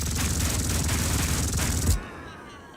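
Rapid bursts of gunfire from a World War 2 strategy game, a dense loud fusillade of repeated shots that cuts off abruptly near the end, leaving a quieter ambient tail.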